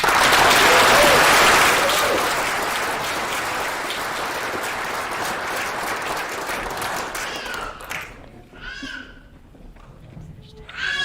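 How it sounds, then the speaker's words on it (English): Audience applause for graduates at a university hooding ceremony, loud and sustained crowd clapping that tapers off over several seconds into fainter scattered claps and a voice. "Round of applause to all of our graduates"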